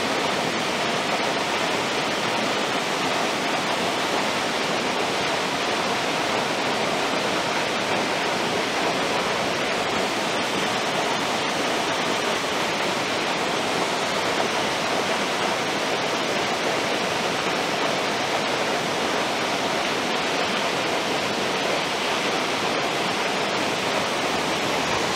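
Heavy waterfall after days of intense rain, pouring in a dark spot as a steady, dense roar of falling water, loud and unbroken throughout, with no voices.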